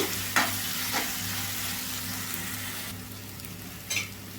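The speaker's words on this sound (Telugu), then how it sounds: "ఒక్క నిమిషం పాటు మడుకు బాగా వేయించుకుందామండి" Ingredients frying in hot oil in a pan for mango pulihora, a steady close sizzle with occasional sharper scrapes and clicks of a spoon stirring, continuous and even throughout with no voices.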